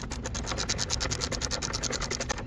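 A ratchet tightens the battery terminal on a 2016 Kia Sorento, giving a steady, rapid run of close clicking, roughly eight to ten pawl clicks per second, with no voices.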